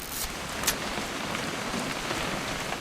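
Steady video game rain pours down in a constant hiss, with a few sharper drips and spatters standing out near the start.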